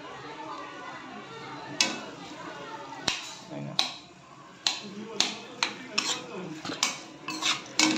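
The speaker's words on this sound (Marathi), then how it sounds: "बघा हे बघा थोडासा परतून घेतोय आपण।" Food sautéing in a pan, with a faint sizzle under repeated sharp clinks and scrapes of a utensil against the metal, while people talk nearby.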